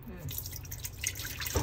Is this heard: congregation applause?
no